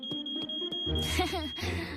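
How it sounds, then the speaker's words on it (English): A high, steady electronic smoke alarm tone rings continuously over a clattering, busy household background, with sharp knocks early on. "Oh, the smoke alarm."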